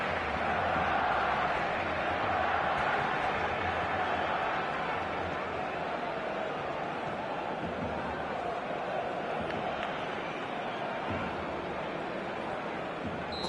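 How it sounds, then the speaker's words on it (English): Stadium crowd in a PS4 football video game, a steady broad roar and murmur holding throughout, with commentary talking over it. "Maybe the crowd will stay a little quieter next time."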